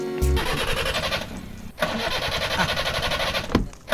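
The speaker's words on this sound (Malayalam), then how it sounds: "എഞ്ചിൻ നടക്കുന്നുണ്ടോ എന്ന് ചെവിയോർത്ത് നോക്കിയാലേ അറിയാൻ പറ്റത്തുള്ളൂ" A car engine cranks and catches, roaring up loud and close, then cranks again with a steady rumbling churn in a Malayalam film scene.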